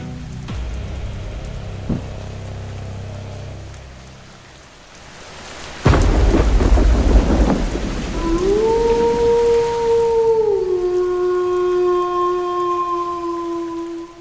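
A night thunderstorm with heavy rain: steady rainfall gives way to a loud, rumbling thunderclap, after which the rain continues beneath a sustained tonal eerie sound.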